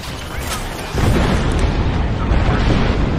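Grenades go off in the Apex Legends battle royale game, a heavy booming blast that thickens into a sustained roaring rumble partway through, loud and dense, with game sounds layered over it.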